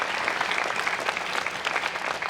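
Steady, dense audience applause fills a hall at a March for Life rally in Brisbane, continuous and fairly loud with no voice over it.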